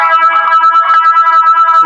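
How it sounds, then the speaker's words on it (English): An electric guitar runs through a distortion pedal and then a phaser pedal, giving a loud, sustained, fuzzy tone that sweeps and swirls steadily for two seconds. "So right now the signal's going to distortion to the phaser."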